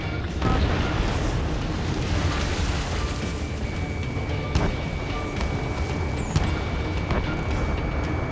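Missile explosions and booming blasts in the combat flight game Ace Combat 7, a continuous roaring rumble with sharp bursts near the middle and end, and no talk over it.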